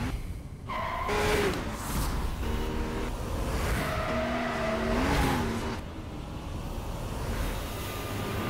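A Porsche 911 Carrera S in Need for Speed: Most Wanted (2012) revs and accelerates, with tonal engine pitch shifts and a brief tire squeal over steady road noise, fairly close.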